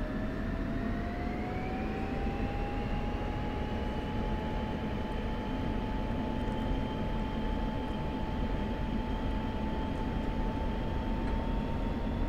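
F-16C Viper jet in the DCS flight simulator, its engine a steady roaring whine whose pitch climbs smoothly and then holds high and constant as it takes off, with no talk.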